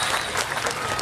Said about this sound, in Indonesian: tepuk tangan hadirin sekalian